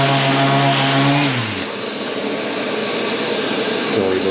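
A Merca power tool working Rangate knot filler on wood, a loud close whining drone that drops in pitch after about a second and a half and continues as a steady rough buzz.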